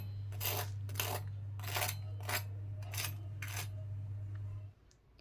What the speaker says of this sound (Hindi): जिस तरह से आपको इसकी आवाज़ क्रंची क्रंची लग रही है